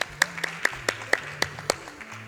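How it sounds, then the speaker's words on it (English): Scattered claps from a small audience at a Summer Games Done Quick 2017 speedrun marathon, about eight sharp separate claps in an uneven rhythm over soft game music with steady tones. "Clap, clap."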